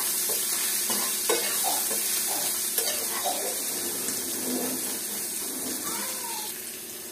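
Leftover vegetable scraps are stir-fried with salt and turmeric in a pan, making a continuous sizzle with scraping stirs and light knocks, while voices are faintly heard over it.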